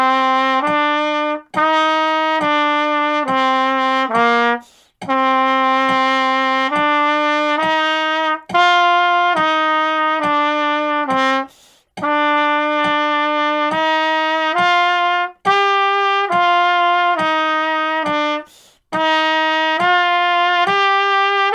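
Trumpet playing scale study number 7 in C at a moderate tempo, a steady run of tongued and slurred notes in long phrases broken by brief breaths, close, loud and unaccompanied.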